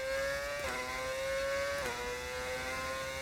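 Modded racing car engine in an F1 video game at Imola, a steady high-pitched whine holding pitch with two brief dips as if shifting gears, loud and continuous with no talk.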